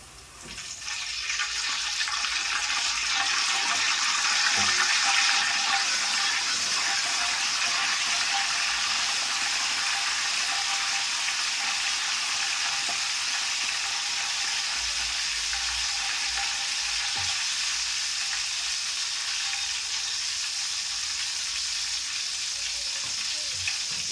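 Potato chips sizzle steadily in hot oil as home-made aloo chips cook on the stove, a continuous loud crackle with a slight surge when salt water is sprinkled on, no voices present.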